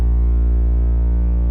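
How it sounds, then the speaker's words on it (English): Hip hop 808 bass with distortion, EQ and a filter applied, a steady sustained low tone holding loud and alone for the whole stretch with dense buzzing harmonics stacked above it. "It is just a hip hop 808 that I found."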